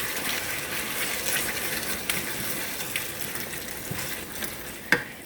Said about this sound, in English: Kind of stir that in there a little bit before we add anything else because it's kind of thick.